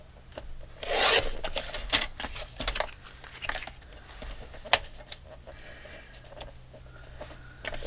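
Scissors or a blade trims a strip of paper for a handmade craft frame, giving close, crisp snipping and rubbing scrapes with a brief louder rustle early on, over a low steady hum and no talk.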